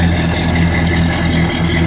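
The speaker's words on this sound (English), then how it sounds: "Nice dual exhaust." A 1967 Pontiac GTO convertible idles through its dual exhaust, a loud, steady low rumble with a deep throb that holds even and close throughout.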